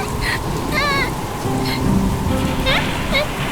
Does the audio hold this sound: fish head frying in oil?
no